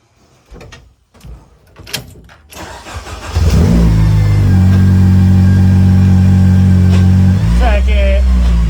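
The engine of the #41 race car, which has a destroyed clutch, starts after a few clunks and rattles, then runs loud and steady up close with a deep, rough, throbbing drone.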